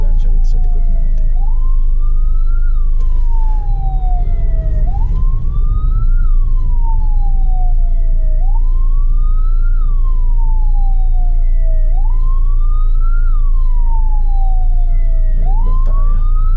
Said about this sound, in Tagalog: may ambulansya rito sa likod natin.